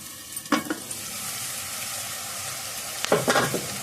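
Onions with salt frying in a pan for tomato mutton curry, a steady close sizzle with two bursts of stirring scrapes near the start and toward the end.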